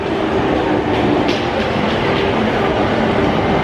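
Inside a moving Tokyo commuter train, a steady rumble and hiss of rolling wheels on rails fills the carriage, loud and unbroken, with faint rhythmic clicks and no voices.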